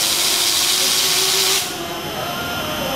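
An automatic ladle scooping molten metal from a foundry furnace produces a loud, continuous hissing roar with steady mechanical noise. The hiss drops sharply partway through, and the machinery keeps running at a lower level.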